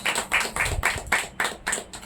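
An audience clapping in thanks at a Christian fellowship gathering, quick, sharp, evenly spaced claps filling the short moment, close and loud.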